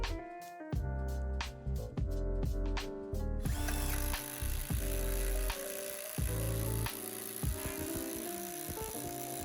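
A brushed cordless drill strains against a 1-inch spade bit in wood, its motor whining in loud bursts that stop and restart, then chattering and grabbing unevenly instead of cutting smoothly, with no voices.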